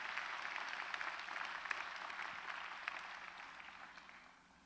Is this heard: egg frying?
no